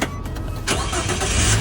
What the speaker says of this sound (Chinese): 一定要上车启动